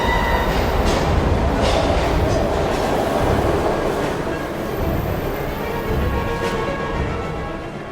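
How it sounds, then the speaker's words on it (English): A train rumbles past in the Heavy Rain video game, a loud steady roar of wheels and rail clatter filling the whole stretch with no talk over it. "We've got to get on that train, Ethan."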